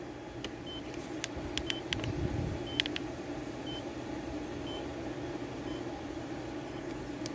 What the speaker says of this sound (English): It's beeping, it's just really quiet.